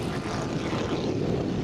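Propeller airplane at the 2012 Oshkosh AirVenture airshow, its engine drone steady and loud throughout with a broad rumbling roar, likely a cargo utility aircraft passing overhead.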